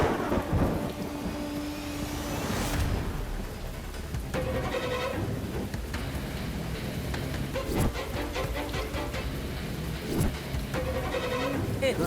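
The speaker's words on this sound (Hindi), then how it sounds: "बारिश हो रही है" A thunderstorm rumbles and cracks over a steady wash of heavy rain, with booming rolls rising and fading across the scene and no clear talking.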